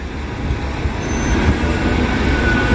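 A Manchester bus on the X43 service to Burnley pulls away from a stop with a second bus following behind it, a steady low engine rumble that slowly builds amid street traffic noise.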